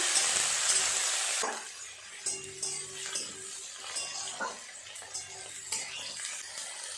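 Onion and chopped tomato sizzle and fry in a pan, with a loud hiss at first that settles into steady frying broken by repeated scrapes and clinks of a spoon stirring against the pan.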